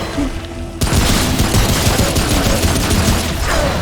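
Sustained rapid gunfire in the shooter game Remnant from the Ashes, bursting in abruptly after a quieter moment and continuing as a loud, dense machine-gun-like fusillade.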